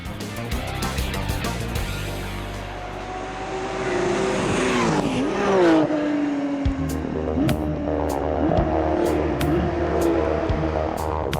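Porsche GT3 Cup race cars roar past on a circuit during a Canadian race series event, several loud engine sweeps with pitch drops as the cars pass close by, engine notes layering over one another.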